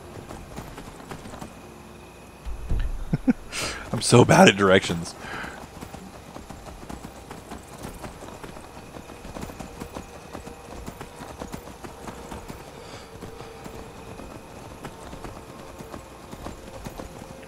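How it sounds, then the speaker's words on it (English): Horse hooves clip-clop steadily in Skyrim, a continuous rhythmic trot heard up close, briefly under a louder burst of movement and a short whinny-like flurry, while someone talks over the gameplay. "Learn how to ride my new horse."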